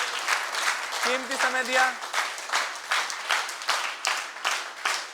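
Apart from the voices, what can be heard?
applause at yoga workshop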